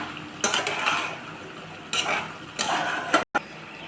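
A utensil stirs spices and dried fenugreek leaves (kasuri methi) through chicken in a pan, giving about four short scraping, clinking strokes close up between brief pauses.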